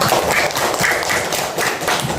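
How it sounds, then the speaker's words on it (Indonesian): Fifth-grade pupils in a primary school classroom clap for a classmate, a loud, close burst of many hands with irregular thumping claps and no talk over it. "tepuk tangan untuk Inaya"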